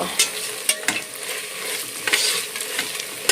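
Ginger-garlic paste being stirred in a hot pan, a spoon scraping and clicking in repeated strokes over a steady close sizzle of frying, with no talking.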